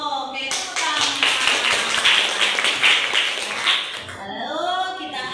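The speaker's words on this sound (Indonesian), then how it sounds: "Oke, tepuk tangan." Classroom students burst into clapping together, a dense, close flurry of hand claps in the middle, framed by a teacher's speaking voice before and after.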